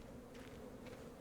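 Bees buzz around a bee farm in a video game, a faint, brief, steady drone with no talking.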